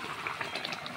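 Cooked mutton being poured into a cooking pot gives a faint, brief bubbling and sizzling wash, soft and close, with no speech.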